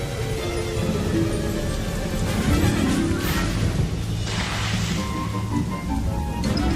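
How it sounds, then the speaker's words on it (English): Heavy rain pours down steadily and loudly, with a dense hiss and patter throughout and a low rumbling underneath. "Rain pounded the earth."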